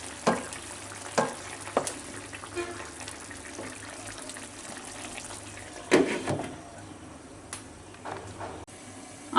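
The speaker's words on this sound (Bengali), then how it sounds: "এখন আমি আর একবার নেড়ে দেব।" A fish curry with lentil dumplings simmers and sizzles in a pan while a spoon scrapes and knocks against it in several scattered strokes, close and without voices.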